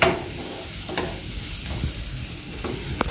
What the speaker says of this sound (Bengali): পেঁয়াজের কলিটা দেওয়ার পর আমি 1 মিনিট ভেজে নেব।